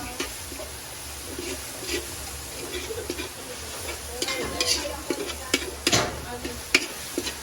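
Sliced kikiam stirred and sautéed in a hot pan, a steady sizzle broken by irregular scraping and clinking of a spatula, louder stirring toward the end, with faint background voices.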